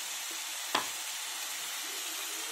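Onion pieces sizzle steadily in a hot pan after ginger garlic paste is added, a continuous bright frying hiss with one sharp clatter or stir near the start and no talk.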